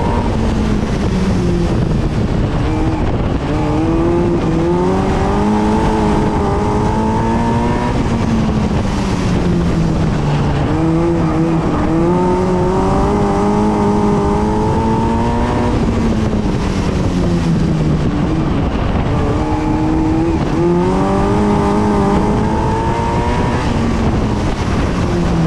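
A race car warming up on track with a fresh tyre fitted, its engine loud and close, rising and falling through repeated accelerations and gear changes over steady wind noise.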